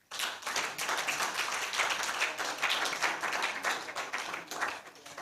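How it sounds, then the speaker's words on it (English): Applause from a roomful of young filmmaking participants at a workshop session, a dense, steady wash of many hands clapping that starts almost at once and holds at an even level for several seconds with no voices. "So a round of applause for all of you."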